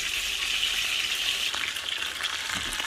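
Roux for chicken and sausage gumbo frying steadily in a pan, a continuous close hiss and sizzle with faint stirring clicks, no voices.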